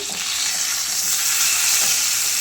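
Hilsa fish frying in a pan: a dense, continuous hiss of hot oil, close and fairly loud and steady throughout, with no voices.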